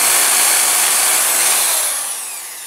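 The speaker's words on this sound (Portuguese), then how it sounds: "já que eu vou furar aqui" Power drill boring a hole while making a decorative car antenna from electronic scrap, a loud, steady high-pitched whine that holds for a couple of seconds and then eases off slightly.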